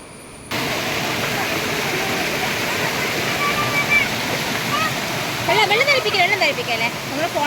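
Stream water flowing steadily where children bathed, a constant broad rush that starts abruptly, with voices and chatter over it near the end.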